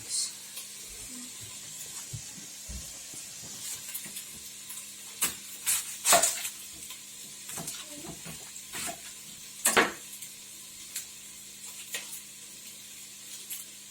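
Chili ingredients sizzle steadily in a hot pan, broken by clinks and scrapes of utensils against the pan.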